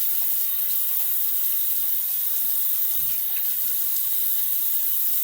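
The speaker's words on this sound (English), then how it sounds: "we're going with kind of lukewarm water" Lukewarm water pours steadily from a tap into a sink, a constant close hiss and splash that runs without a break, with no one speaking.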